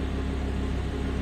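An Audi R8 V10 with a manual gearbox and a non-original exhaust rumbles steadily at close range, a deep, even engine drone with no clear rev spikes over this short stretch.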